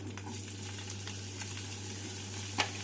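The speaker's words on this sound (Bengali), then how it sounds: "পেঁয়াজগুলোকে তেলের মধ্যে অল্প করে ভেজে নেব।" Chopped onions fry in hot oil left over from frying meat, a steady close sizzle with a low hum beneath and a faint clink near the end; no one speaks.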